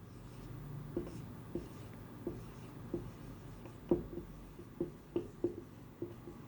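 A pen scratching on paper while accounting figures are written out, a series of faint, close strokes and taps spaced irregularly across a quiet room.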